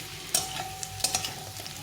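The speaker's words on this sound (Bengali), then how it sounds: "এখন আমি মশলাটাকে দিয়ে ভালো করে কষিয়ে নিচ্ছি" Potatoes and onions fry with salt, turmeric and spices in a pan, a short stretch of steady sizzle broken by a few quick spatula scrapes.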